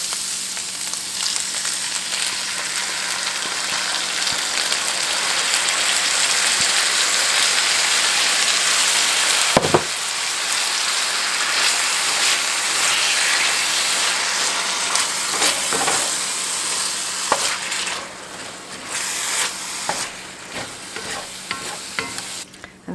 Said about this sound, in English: And now I'm ready to add the baked beans.